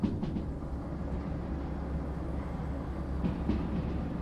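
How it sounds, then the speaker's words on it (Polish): Rumbling freight train rolling and slowing on rails in the Derail Valley train simulator game, a steady low grinding drone with faint clicks, continuous and fairly loud throughout with no talk. "wyhamujemy sobie trochę pociąg"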